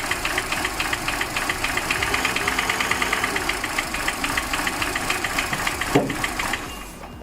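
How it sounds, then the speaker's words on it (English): A Kia Forte engine running out of fuel idles roughly with a rapid uneven knocking stutter from its misfires. Near the end comes a single louder thump, and then the running sound cuts off as the engine dies. No one speaks. "It will run a few seconds and then it will start misfiring and it will die."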